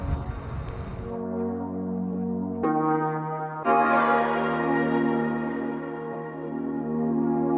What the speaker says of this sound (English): We have a pretty loud horn.